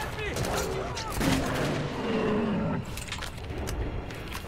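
Gunfire in the Metro 2033 video game, repeated loud shots and bursts over a dense noisy backdrop, close and persistent, with some speech mixed in.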